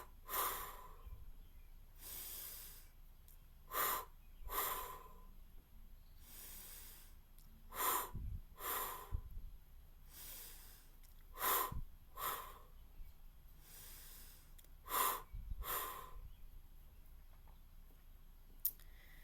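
A guided stuttering-release exercise with repeated deep breaths drawn in and let out, each a short breathy rush of air in a quiet room, coming in pairs at a steady spaced rhythm, close and fairly soft.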